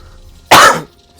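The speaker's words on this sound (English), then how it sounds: "I've been coughing a lot" A single sharp, loud cough from a man, close to the mic and alone, lasting about a third of a second against quiet background.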